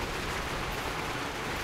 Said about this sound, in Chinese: 你们听得到雨声吗？